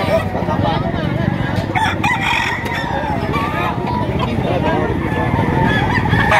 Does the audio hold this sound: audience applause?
no